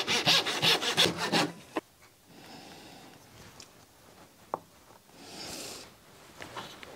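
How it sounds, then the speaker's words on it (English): Sanding the sides of a wooden yo-yo by hand: a run of quick rhythmic rasping strokes up close, then quieter scattered rubbing with a brief knock and a later swell of scraping. "I'm just gonna kind of sand the sides to take off any hard edges."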